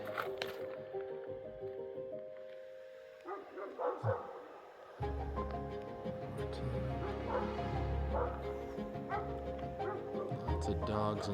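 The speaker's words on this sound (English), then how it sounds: "lots of dogs and coyotes out where I am. You probably hear them yapping." Dogs and coyotes yap and bark in bursts from a distance, mixed with outdoor background noise and some nearby speech.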